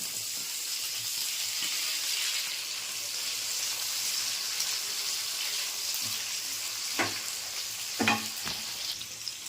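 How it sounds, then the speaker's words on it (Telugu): Chopped onions and tomato sizzle in hot oil in a pan, a close, steady frying hiss throughout, with a few brief clinks of utensil stirring near the end. "మరుగుతున్న ఆయిల్లో ఇప్పుడు కట్ చేసుకున్న ఉల్లిపాయలు"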